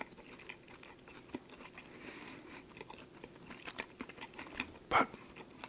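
Soft chewing and biting of a Tim Hortons Supreme Garlic Stack sandwich, close and quiet, with small repeated mouth sounds and one sharper crunchy bite near the end, no talking.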